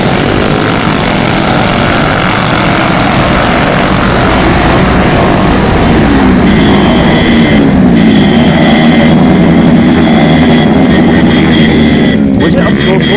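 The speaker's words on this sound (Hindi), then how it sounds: "अब लाउड स्पीकर लगे ट्रकों की जगह बिना साइलेंसर वाली बाइकों ने ले ली थी।" Motorbikes without silencers roaring during the Kanwar Yatra pilgrimage in India, a loud continuous engine drone with a revving tone rising midway, and voices faintly underneath.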